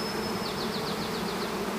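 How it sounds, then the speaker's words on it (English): Honey bees buzz in a dense, steady drone at a hive's landing board, with single bees whining past close by against the continuous hum. "there's a lot of bees on that landing board with their abdomens in the air, fanning their homing pheromones"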